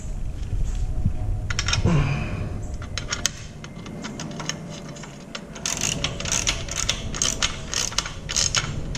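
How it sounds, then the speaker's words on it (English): A ratchet tightens the Ricochet crash bar bolts on a 2018 BMW R1200 GSA, producing bursts of rapid, close metallic clicking over a steady workshop background, strongest in the second half. "Not going to tighten it all the way down just yet."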